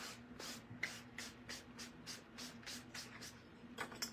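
A handheld spray bottle spritzes onto a picture frame in a quick, even run of about ten short hissing bursts, soft and close, with no talking.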